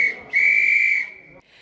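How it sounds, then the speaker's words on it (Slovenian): A traditional railway whistle blown to open a railway exhibition in Ormož: one loud, sustained shrill tone, briefly interrupted, then fading to a softer tail before stopping. "Slovesnost na odprtju razstave se je začela z značilnim železničarskim žvižgom Nine Avbej-Lekić"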